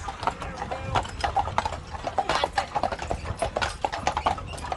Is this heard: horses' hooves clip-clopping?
yes